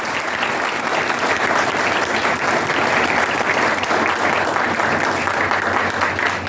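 An audience at a speech claps loudly and continuously, a thick, sustained wave of many hands that holds steady from start to finish with no voices over it.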